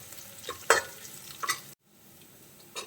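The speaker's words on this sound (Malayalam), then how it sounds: "അതും കൂടെ ചേർത്തിട്ട് നന്നായിട്ടൊന്ന് വഴറ്റി കൊടുക്കാം" Shallots sautéing and being stirred in a pan while making rasam, with soft sizzling and a few sharp scraping stirs, followed by a brief quiet gap and then a low, steady frying hiss.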